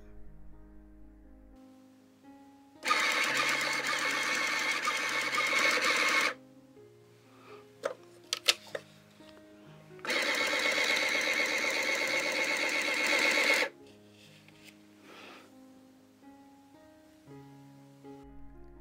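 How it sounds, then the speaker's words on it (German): A Sinclair ZX Printer connected to a ZX81 prints a program listing. Two loud, steady buzzing runs of several seconds each are separated by quiet stretches with small mechanical clicks. "Die Programmzeilen werden auf dem Drucker ausgegeben."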